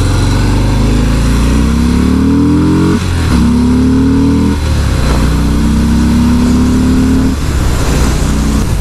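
A 2018 Harley-Davidson Fat Bob Softail with a 107 engine on a test ride, its loud, close, low rumble climbing in pitch through repeated revs and gear shifts, with short dips between pulls.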